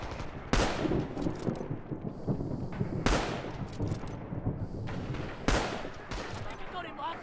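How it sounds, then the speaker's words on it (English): StG assault rifle fire in a WW2 first-person shooter video game, three loud sharp bursts at roughly even intervals over background battle noise, each with a fading echo tail. "I just heard shooting with a STG"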